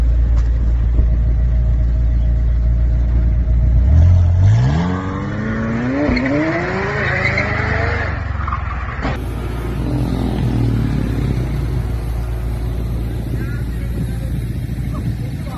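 A Porsche engine revs hard while driving, its pitch climbing through a rising acceleration over low road rumble, loud and close from inside the car, then settling into a steady cruise.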